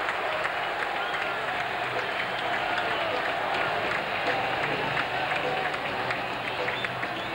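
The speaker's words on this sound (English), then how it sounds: "The noise is for nobody but Eddie Jones" A basketball arena crowd roars continuously for a Lakers dunk during a 1995 game, a loud, sustained wash of cheering and clapping with no break.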